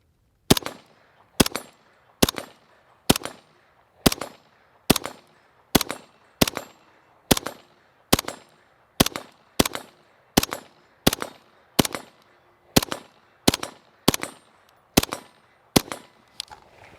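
A long stroke gas piston rifle fires about twenty evenly spaced single shots outdoors, each a loud sharp crack with a short decay, in a steady rhythm roughly one per second, with no talking.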